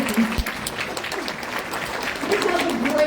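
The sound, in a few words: conference audience applause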